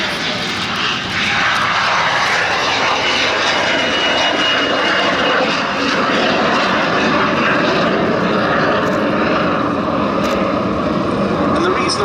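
A British-built classic jet flies at the Duxford Battle of Britain airshow, its steady, loud engine roar filling the whole span with a broad, continuous rush that holds level throughout.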